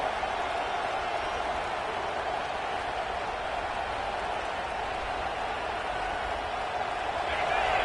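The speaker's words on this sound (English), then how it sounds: "this crowd is fired up. Listen to this noise here." A loud, steady roar of a large crowd at a USC versus Georgia football game fills the air, a dense wash of cheering and noise that swells slightly near the end.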